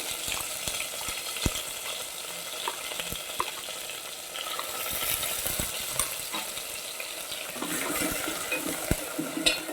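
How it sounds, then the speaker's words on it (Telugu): Fenugreek leaves being stirred and fried in oil while cooking fenugreek rice: a continuous crackling sizzle close by, punctuated by irregular scraping and clinking stirs of the spoon against the pan, with no talking. "ఇలా కలియబెట్టుకొని మెంతాకును మగ్గించుకోవాలండి."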